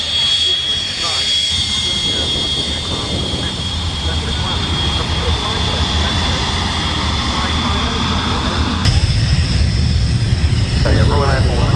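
Consolidated long-range bomber at the Duxford airshow, its engines droning steadily and loudly for the whole stretch, a continuous aircraft roar with a narrator speaking over it.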